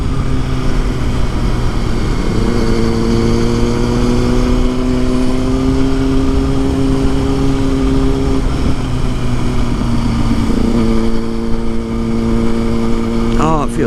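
A motorcycle rides along an open road in warm weather, its engine holding a loud, steady droning hum. The pitch slides gradually as it speeds up and eases off, with wind rushing throughout.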